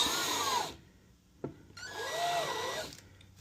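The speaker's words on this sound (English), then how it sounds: "We're going to start to drill, chamfer all of these holes." Power drill chamfering screw holes for T-nuts in wood for a pinball kit, in two close whirring bursts of about a second each, split by a short quiet gap with a single sharp click.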